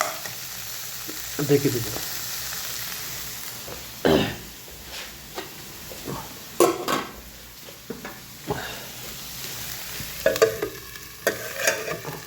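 Bitter gourd and potato fry in a pan with dried fish nearby, a low steady sizzle broken by scraping stirs and clanks of a utensil against the pan, with a throat clearing and a few brief spoken words.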